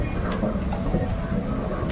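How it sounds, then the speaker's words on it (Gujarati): A train runs along railway tracks, a steady broadband rumble and rattle that holds evenly for two seconds with no voices. "ટ્રેનના પાટા"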